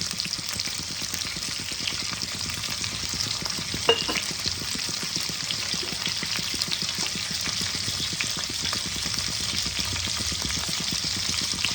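Spices with a little turmeric frying in a pan, giving a loud, steady, close sizzle with continuous crackle and faint stirring throughout, no voices.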